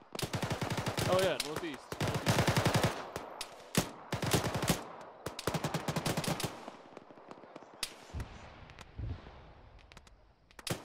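Rapid bursts of automatic and single-shot gunfire from a military shooter game, Arma with the ShackTac group, crackling loud and close in clustered volleys, then thinning to scattered shots and distant thumps, with brief radio-style voices in between.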